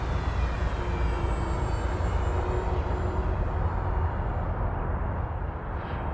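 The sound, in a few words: FMS F7F Tigercat RC plane flyby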